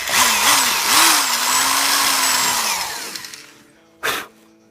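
Cordless power drill boring holes through the benchwork of an HO scale model railroad layout: a loud whirring run that rises and dips in pitch for about three seconds, winds down, then gives one short final burst.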